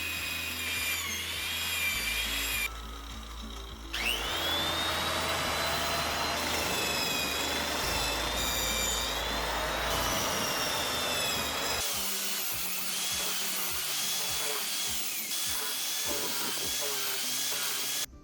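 Woodworking machine rough-cutting a hole for traditional Japanese joinery, a loud sustained whining cut with a rasping tone. A short pause breaks it, and a run of rhythmic chopping bursts follows near the end, with no talk.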